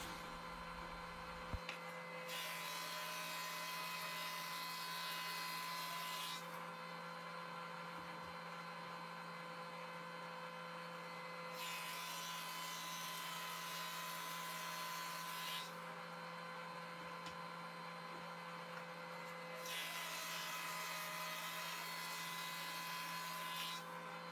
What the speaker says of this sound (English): Now we take the slabs and plane them down to about 1 9/16.